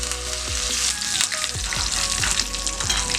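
Curry leaves and coriander leaves sizzle and crackle loudly in hot oil, a dense bubbling hiss with small pops and soft stirring knocks, close up and without speech.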